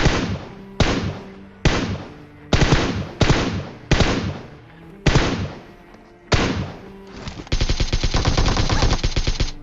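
PUBG Mobile gunfire: a series of sharp, loud single shots spaced about a second apart, each with a decaying tail, then a rapid automatic burst of evenly spaced shots to the end.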